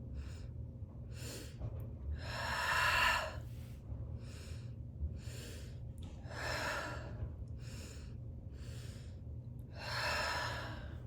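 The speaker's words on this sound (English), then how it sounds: "Continue breathing." Deep, slow breaths during a guided breathwork exercise, a series of strong drawn inhales and exhales rising and falling in a steady rhythm, close and fairly loud, with no talking.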